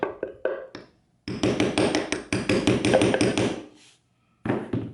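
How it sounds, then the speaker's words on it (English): A few sharp metallic taps, then two long runs of rapid, ringing strikes from the side of a hammer on a metal piece of a beer tote close by, with a short burst at the end. "Just using the side of the hammer here"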